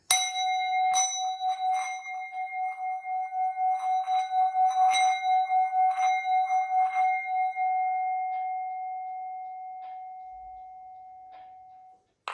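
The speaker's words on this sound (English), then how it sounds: "I am going to play the sound bowls to reset our vibe" A singing bowl is struck and rubbed, its bright pure tone swelling and pulsing, then ringing out and slowly fading into silence.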